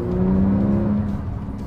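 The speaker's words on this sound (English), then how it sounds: "suddenly the baffles and the exhaust open up" A Porsche 911 Turbo in Sport Plus mode on a racetrack, exhaust baffles open, gives a short steady engine drone that eases slightly, heard from inside the cabin.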